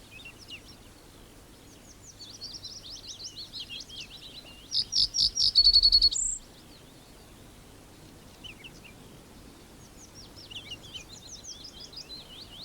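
Reed bunting and other small birds sing on an open moor, thin chirping phrases scattered across the whole stretch, with a louder, closer burst of rapid trills near the middle before the song drops back to softer, distant calls.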